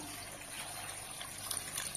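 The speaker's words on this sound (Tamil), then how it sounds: "இந்த காய் வேகிறதுக்கு தண்ணி கொஞ்சமா சேர்த்துக்கலாம்" Water pours steadily into a cooking pot of vegetables with a continuous splashing gush, close by, growing slightly busier toward the end.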